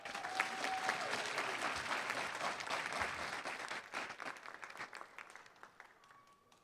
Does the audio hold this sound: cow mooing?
no